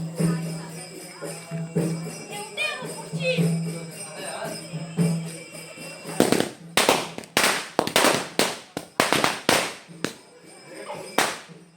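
Firecrackers burst at a Ganesh festival farewell celebration, a rapid string of sharp, loud cracks in the second half after talk and chanting, close by and uneven in rhythm.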